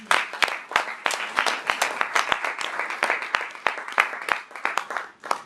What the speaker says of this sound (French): On peut applaudir Monsieur Pierre.